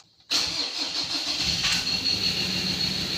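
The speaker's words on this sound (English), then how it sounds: "we're gonna crank the engine and see what we get" Ford Ranger T6 with a lost-power fault and heavy vibration cranks briefly and catches, then settles into a steady, loud, slightly rough running engine close by.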